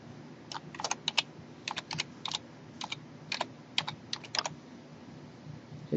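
Keys click on a computer keyboard as a name is typed into a blog sidebar widget, with short bursts of crisp close keystrokes separated by brief pauses over a faint steady hum.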